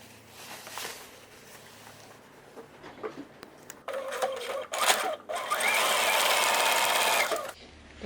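A sewing machine stitches a 2.5 cm dress hem, guided by a magnetic seam guide, with short bursts of stitching early on building to a steady, loud run near the end.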